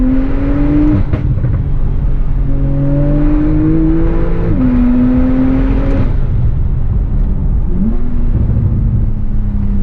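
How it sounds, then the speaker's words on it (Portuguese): A Porsche 911 Turbo (991.1) accelerates hard under launch control, its engine droning loud and close, with the pitch climbing and then dropping at each gear change, heard from inside the car. "Vocês não têm ideia da força que é o launch control desse carro."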